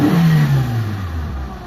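A Mitsubishi Lancer with a low-power fault revs once sharply, then its pitch sinks as the engine falls back toward idle, loud and close with no talk.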